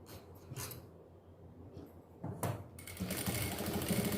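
A sewing machine stitches the shoulder seam of a small doll dress with a fast mechanical whir in short runs, starting and stopping, then running steadily, quiet and close.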